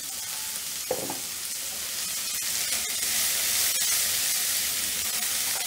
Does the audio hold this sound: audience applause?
no